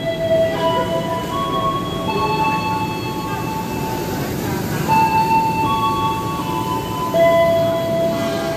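The Malabar passenger train pulls away from a station, a steady rumbling roll with faint wheel squeals and a brief bell-like tone over it, continuous and fairly loud throughout.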